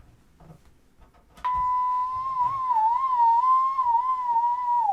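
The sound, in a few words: synthesized tone changing frequency with accelerometer tilt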